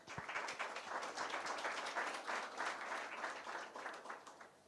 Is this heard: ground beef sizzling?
no